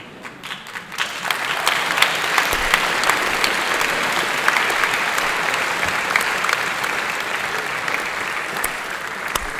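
Sustained applause from a studio audience on an Italian talk show, dense and steady clapping throughout with no voices over it.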